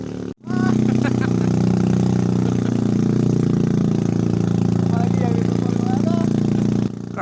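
An automatic scooter engine laboring up a steep concrete road with a dirt center strip, its steady close drone slowing as it climbs past roadside stalls and villas on the way to a Mount Salak basecamp.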